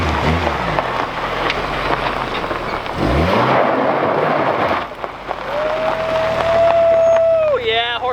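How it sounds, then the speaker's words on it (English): A Volkswagen Golf does a burnout in a rocky gravel pit, the engine revving hard under a loud, constant roar of spinning tires and flying grit, with people talking over it. "I'm gonna do a burnout, and I hope I don't snap an axle"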